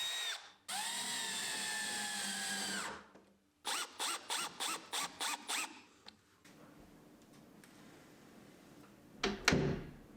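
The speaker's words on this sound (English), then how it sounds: "Then I can drill new pilot holes and get some new screws in." A power drill whirs in a long burst, then a run of short rhythmic pulses while drilling new pilot holes for screws in a door, followed by quieter handling noise and a final clunk.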